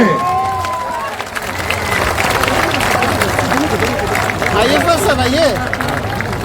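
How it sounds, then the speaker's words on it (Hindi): A large crowd at a political party gathering claps loudly and continuously, sustained applause and cheering filling the space, with a voice speaking over it. "जोरदार ताली बजाइए।"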